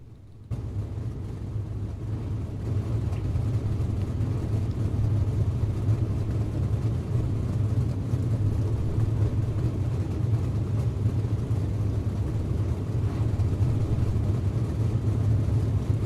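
A field of race cars roll off pit lane at a night feature race and settle into pacing laps, their engines a steady, loud low rumble that holds continuously with no distinct revving peaks or voices.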